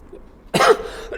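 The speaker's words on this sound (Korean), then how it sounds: "제가 자꾸 기침을 하는데" A single harsh, close cough from a man with mild bronchitis, short and loud after a quiet moment, with a faint second rasp trailing at the end.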